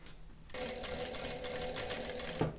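Close-up whir of a sewing machine topstitching about a millimetre from the edge of a lining on a leather welt pocket, starting after a brief quiet and running steadily to the end.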